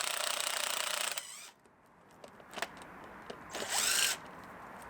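A turbo socket driven by a power tool spins off a rusted, rounded 10mm bolt on a 2.4 GM engine, giving a loud, steady whirring burst that stops short, then a few clanks and a second brief high whir.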